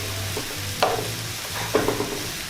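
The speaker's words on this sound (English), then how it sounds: "we just continue to sear all these off and get these nicely seared on all sides" Chicken pieces searing in a hot pan for chicken tikka masala, a constant close sizzle with two sharper bursts as pieces are moved or turned.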